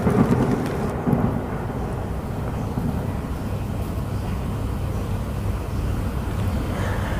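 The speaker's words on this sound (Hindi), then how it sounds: "इस तरह बारिश होती है।" Rain with rolling thunder plays as a steady, loud storm sound effect for rainfall, with a heavier rumble at the start and a dense wash of rain throughout, no voices.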